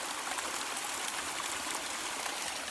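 A small stream crossing a walking trail on the Cotswold Way, a steady close trickle and splash of running water filling the moment without any talk.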